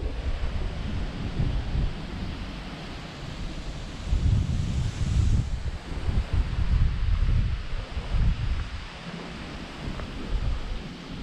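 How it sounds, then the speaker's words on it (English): Strong gusty wind buffets the microphone at a showground in Goondiwindi, a loud continuous roar that surges in waves with no talk. "it's still very windy. Big gusts."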